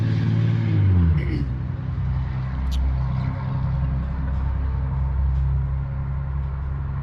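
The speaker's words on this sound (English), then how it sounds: "Noisy truck." A noisy truck passes by outdoors, a loud low rumble that swells at the start and then settles into a steady engine drone as it moves along.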